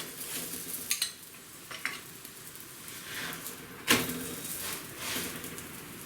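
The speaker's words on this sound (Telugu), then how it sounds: "రెండో వైపు కూడా ఆయిల్ రుద్దిన తర్వాత ఇలాగ తిప్పుకుంటూ కాల్చుకోవాలి" A chapati roasts on a pan after being rubbed with oil and flipped, giving soft sizzling with light scraping and a sharp clatter of a utensil against the pan partway through, close by and fairly quiet.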